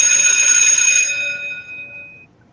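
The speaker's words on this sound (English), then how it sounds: "Every time that bell rings, it makes me think of a school bell." A single bell strike rings out loud and clear, its bright metallic tone sustaining and then fading away over a couple of seconds, with no voices over it.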